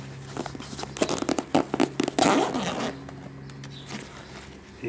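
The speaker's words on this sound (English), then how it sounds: "You can undo with Velcro." The Velcro strap on a rectangular XMT recovery kit bag is pulled apart in a quick burst of close, rasping tears, followed by softer rustling and handling of the bag.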